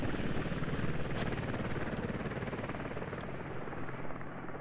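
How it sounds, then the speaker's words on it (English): A helicopter hovers over an Iraqi airfield in a military video game, its rotor throbbing in a dense, steady, close roar with faint gunfire pops, and no one talks. "Helicopter is getting ready to move back"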